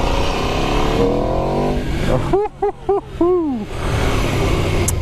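An Aprilia RSV4-RF V4 sport motorcycle runs with a loud, steady engine drone, then rapid blips rise and fall in a quick burst of revving before the engine settles back to a rough, close roar.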